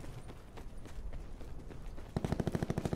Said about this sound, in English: You guys hear that, right? Gunshots. Gunshots back there.